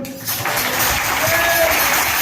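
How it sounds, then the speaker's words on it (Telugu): A church congregation at a worship service breaks into sustained clapping that starts abruptly after a brief quiet moment and then holds an even, full level throughout. "చప్పట్లు కొట్టండి."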